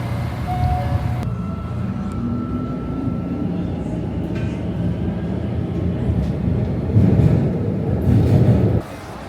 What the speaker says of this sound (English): This is the first driverless train in Brazil.